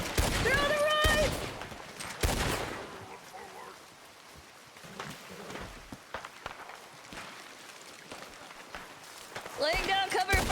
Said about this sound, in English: Laying down cover fire!